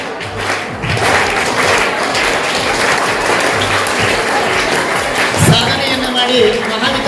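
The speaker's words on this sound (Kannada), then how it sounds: "ಮತ್ತೊಮ್ಮೆ ಜೋರಾದ ಚಪ್ಪಾಳೆಗಳ ಮೂಲಕ" Audience applause at a school cultural and sports ceremony honouring students, loud sustained clapping from a crowd filling the whole stretch without letting up, with a few thumps mixed in.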